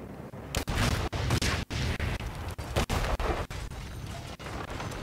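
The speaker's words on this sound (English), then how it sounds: "Definitely a very nice explosion there with bodies going everywhere." A big explosion at a pool party in Sapienza in the video game Hitman 3 produces a loud, continuous broadband roar. The roar breaks into choppy bursts with brief dropouts over several seconds.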